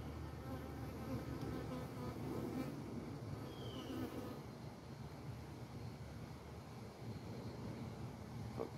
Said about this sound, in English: if there's a dead bee in the hive, they'll take it to the bee graveyard